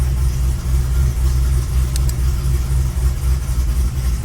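A Chevy SS with an LS3 V8 and BTR cam runs on a dyno under load, giving a steady, deep engine drone that holds level throughout.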